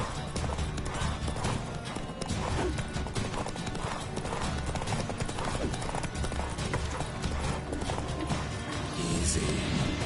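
Horse hooves clip-clop steadily in The Witcher 3, a continuous loud gait under busy game sound with occasional crashes and a brief whinny-like cue.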